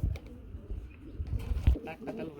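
Beauty pigeons, a pair offered for sale, coo in low, soft repeated bursts close by, with faint background voices and bird sounds around them.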